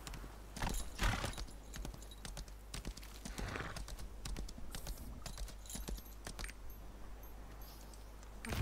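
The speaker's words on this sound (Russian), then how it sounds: "Это надо на лошадку, наверное, сесть." Horse hooves galloping in the Lost Ark video game, a fast, steady clip-clop rhythm that runs throughout at a moderate, slightly distant level over game ambience.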